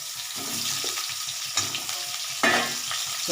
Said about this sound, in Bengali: এই আলুগুলো আমি দিয়ে দিচ্ছি এবার তেলের মধ্যে আলু ভাজা হতে হতে তেলটা হয়ে যাচ্ছে